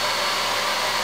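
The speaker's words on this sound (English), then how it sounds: "I'm just going to warm up my toothbrush a bit with a hairdryer" A hair dryer blows steadily and loudly up close while warming a toothbrush, a constant whooshing hum with no pauses.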